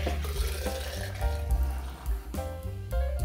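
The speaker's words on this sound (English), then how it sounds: "we're just adding a little more water in" Water from a tap pours steadily into a homebrew beer fermenter, topping it up to the 5-gallon mark, a continuous close splashing fill with no talk over it.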